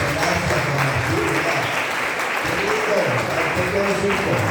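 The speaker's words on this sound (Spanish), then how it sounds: "Le damos un aplauso a Juan Martín." An audience at a Christmas celebration service applauds Juan Martín, a continuous, dense round of clapping lasting several seconds, with someone speaking over it.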